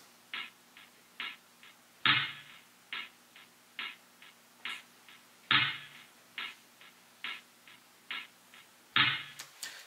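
A lower, slightly duller hi-hat loop plays in a steady pattern, with a few louder, splashier hits landing every few seconds.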